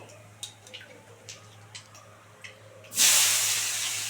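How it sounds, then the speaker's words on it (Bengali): Sliced onion dropped into hot oil already holding black cumin erupts into a loud, sudden hiss of sizzling, following a few faint clicks and taps in an otherwise quiet kitchen. "এবার দেবো পেঁয়াজ ফোড়ন দেবো"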